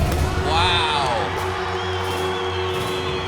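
Crowd at an X Games skateboarding contest cheering and whooping loudly right after a winning run, a steady roar with a few high shouts rising above it.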